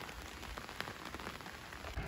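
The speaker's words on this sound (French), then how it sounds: "Il pleut." Steady rain falls outdoors in Amares, Portugal, making a continuous, even hiss of drops on surfaces that lasts throughout, with no voices.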